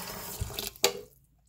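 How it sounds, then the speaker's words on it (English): Water is poured from a tap into a rice cooker pot to the three-cup line for white rice: a short splashing fill ending in a sharp burst, then quiet. "we'll have to put the water in the 3 lines"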